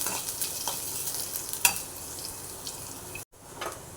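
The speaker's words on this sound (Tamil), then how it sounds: "வெங்காயம் பாருங்கள், வறுபட்ட மாதிரி வதங்கிருச்சு." Onions browning in a pan produce a soft, steady sizzle at moderate distance, punctuated by a few light spoon scrapes and one sharper clink, with a brief gap near the end.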